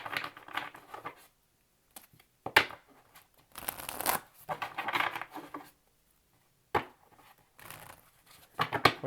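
Tarot cards are shuffled in short bursts of crisp riffling and flicking, each lasting about a second, separated by near silence. The sound is close but fairly quiet.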